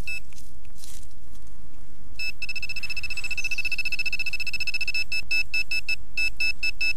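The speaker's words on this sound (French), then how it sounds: "je prends le pointeur, je le mets sous tension, j'ai la petite LED blanche qui s'allume" A metal detecting pinpointer gives a steady high electronic tone once switched on, then short repeated beeps that quicken toward the end, close and clear against quiet outdoor background.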